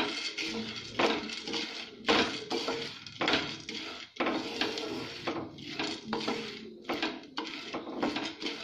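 Peanuts tip into a metal pan and are stirred while roasting over a medium flame for masala peanuts, giving repeated clattering scrapes and rattles at close range with no talking.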